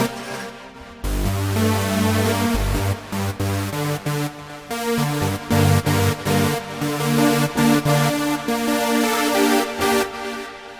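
A subtractive synthesizer lead patch plays short, punchy chord stabs in a choppy rhythm with brief gaps between hits, bright and harmonically rich, alone without any talking.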